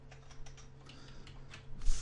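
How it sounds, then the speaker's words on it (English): Someone types on a computer keyboard while entering router ping commands in a networking lab, giving a quick, uneven run of close, crisp key clicks over a steady electrical hum. "Man, I'm just not typing correctly here."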